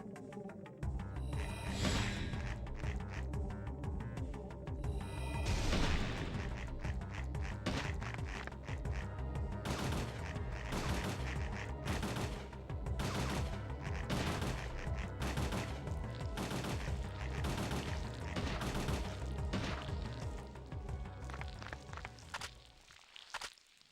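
Rapid, sustained gunfire from the video game Parasite Eve 2, a dense stream of repeated shots running nearly the whole time at steady loudness with no talking over it.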